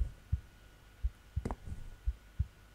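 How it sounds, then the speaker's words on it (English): A heart beats behind a door in a video game, heard as soft, low, rhythmic thumps in pairs, steady and close, over a faint hum, with no talking. "So, there's a heart on the door and I hear a heart beating."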